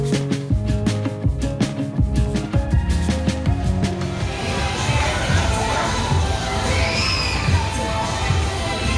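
Crowd of riders screaming and cheering on a fast state fair ride in Texas, a loud sustained mass of voices over rumbling machinery, swelling after the first few seconds and continuing to the end.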